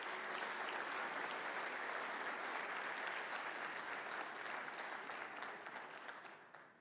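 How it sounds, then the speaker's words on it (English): An audience at a real estate technology conference breaks into sustained applause, a dense, even wash of clapping that holds steady for several seconds, then thins and fades toward the end. "Could everyone please give them a big round of applause?"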